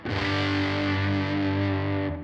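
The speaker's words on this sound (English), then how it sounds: "So if I'm playing with my fuzz and then want just a little more bite to it, I add this one." An electric guitar runs through a fuzz pedal with a boost pedal stacked for extra bite, playing a loud, sustained, thickly distorted chord that rings steadily for about two seconds before cutting off.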